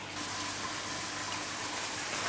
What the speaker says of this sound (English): I'm going to just put a touch of water in it.